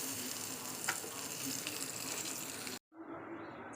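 Red chilies and curry leaves fried in hot oil for a tempering: a steady, crackling sizzle close by, then a brief cut and a quieter hiss afterward.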